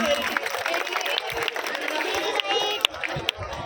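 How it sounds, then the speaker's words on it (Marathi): A live audience applauds after a stage performance at a local cultural program: dense, steady clapping fills the whole stretch, with a few sharper claps standing out near the end. "जोरदार टाळ्या वाजून द्या"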